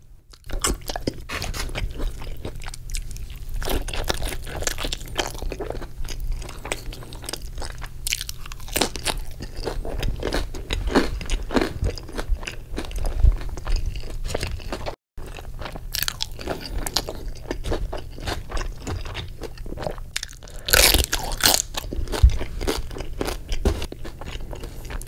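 Close, loud crunching and chewing of a giant burrito with chips, guacamole, carne asada, beans and cheese, with repeated crisp bites and wet mastication continuing steadily without talk.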